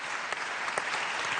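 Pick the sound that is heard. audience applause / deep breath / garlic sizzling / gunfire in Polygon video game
audience applause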